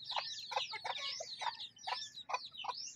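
Chicks on a chicken farm peep in quick, repeated high-pitched chirps. The calls come close together and fairly loud, with a faint low rumble underneath.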